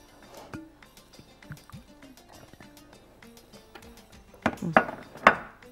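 A spoon stirs onion with curry, ginger, bay leaf, black pepper and nutmeg in a cooking pot, making soft scrapes and clinks that turn into several louder metallic knocks near the end, with a faint voice in the background.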